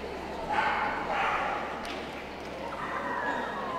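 Dogs bark in short bursts in a hound group ring at a City of Birmingham championship dog show, heard under a steady indoor crowd murmur.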